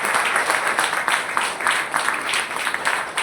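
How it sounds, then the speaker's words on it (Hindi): Steady applause from a crowd at an on-stage felicitation, a dense wash of clapping that holds at an even level throughout with no voices over it. "एक बार जोरदार तालियां मेरे सभी"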